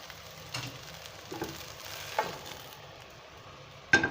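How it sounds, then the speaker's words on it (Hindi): Okra is stirred into a spiced onion masala in a pan with the heat off, giving a soft, low sizzle broken by a few scraping stirs and a sharper knock at the end, all fairly quiet. "इसको अच्छी तरह पलट लेंगे और भिंडियाँ हम डालेंगे इस मसाले में"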